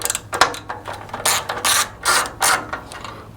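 A ratchet loosens a 10 mm bolt on a Jeep JK 3.6 Pentastar intake, giving several close bursts of rapid clicking separated by short pauses, with no voices.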